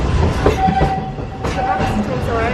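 A railroad train running at the Magic Kingdom, a steady rumbling roll with clattering under nearby talking voices and a faint whistle-like tone, close and fairly loud throughout.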